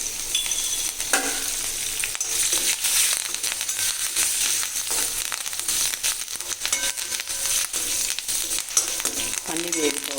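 Dried red chilies, green chilies and curry leaves crackle and sizzle in hot oil for a bottle gourd curry, a steady bright frying hiss with scattered pops and occasional stirring clatter near the end.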